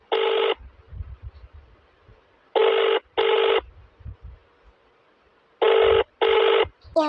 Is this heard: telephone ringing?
yes